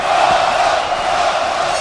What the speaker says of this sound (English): Crowd chanting, Cotto, Cotto.